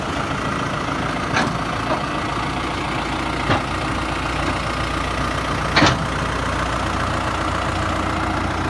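A Case JX110 tractor engine idles steadily in a rice field during paddy sowing, a continuous low-mid rumble with a few brief clanks over it.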